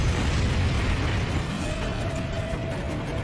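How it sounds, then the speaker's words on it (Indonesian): A big explosion set off by igniting oil in an animated fantasy film, heard as a loud, sustained low rumbling roar that fills the whole clip with no talk. "Mang Hojun sudah bersiap untuk menyulutnya demi memicu ledakan besar guna membakar tim Dewa Iblis"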